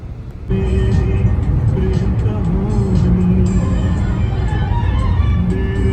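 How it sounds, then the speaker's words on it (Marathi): Steady road traffic on the Bor Ghat mountain pass near Lonavala, car engines rumbling and passing close by, a continuous loud drone with some higher tonal whine throughout. "लोणावळ्याच्या बोरघाटामध्ये कंपल्सरी ट्रॅफिक असते"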